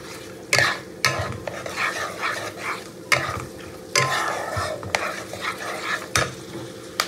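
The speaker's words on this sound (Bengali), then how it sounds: "কাজু কিশমিশটাকেও ভালো করে একটু ভেজে নেব।" Cashews and raisins fry in ghee with a bay leaf, sizzling softly while a spoon scrapes and knocks against the pan in irregular stirring strokes.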